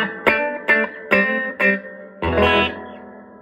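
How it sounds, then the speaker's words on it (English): Electric guitar chords from a Danelectro with DiPinto Galaxie 2S single-coil pickups, strummed through an amp: several short choppy stabs followed by a longer ringing chord with a pulsing tremolo wobble. "The tremolo is beautiful on them."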